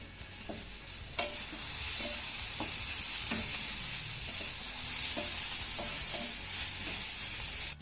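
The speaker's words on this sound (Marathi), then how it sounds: "यामध्ये आपल्याला भरपूर अशी बारीक चिरलेली कोथिंबीर घालायची आहे चांगले मिक्स करून घेऊया" Finely chopped coriander stirred into sizzling vegetables in a pan, a steady frying hiss broken by regular knocks and scrapes of a spoon roughly every half second to second, close by with no voices.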